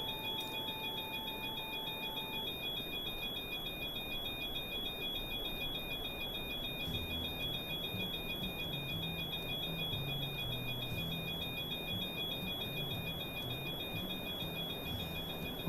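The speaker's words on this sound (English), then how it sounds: "Get that beeping noise out." A continuous electronic beeping alert sounds inside the cockpit of a PMDG 737-700 airliner in Microsoft Flight Simulator, a steady tone pattern repeating over a low hum of engine and cabin noise, with no voices.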